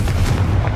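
A Confringo blasting curse explodes in Hogwarts Legacy as a single heavy, booming blast, a close and loud low-end thump that fills the short moment.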